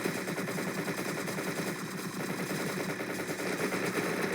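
Sustained rapid automatic gunfire in the video game Entry Point while an enemy unit is cleared, a dense continuous rattle of shots lasting throughout at steady loudness.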